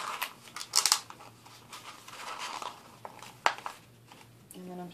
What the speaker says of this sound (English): I took a piece of paper and I just cut it so it'll loop around here